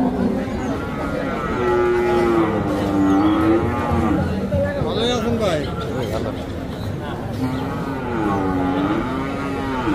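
Young calves low and moo at Paragram cattle market in Bangladesh, several drawn-out calls up close while people talk nearby amid a market murmur.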